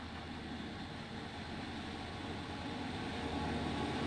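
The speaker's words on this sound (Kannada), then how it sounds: "ಈಗ ಟ್ರೈನ್ ಬರೋದೈತೆ, ಬರೋದ್ಕೂಲೆ ತೋರಿಸ್ತೇನೆ." The Palace Queen Humsafar Express, hauled by a WDP4 diesel locomotive, approaches a station with a steady low rumble that swells slightly as it draws nearer and stays fairly distant throughout.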